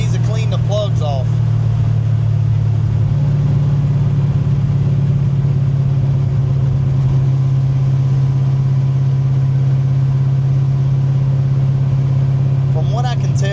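A car engine runs steadily after its spark plugs have been cleaned off, a low, even hum close by that holds throughout, with someone talking briefly at the start and end.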